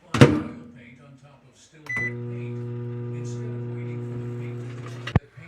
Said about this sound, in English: Let's microwave butter for 30 seconds or 48 seconds in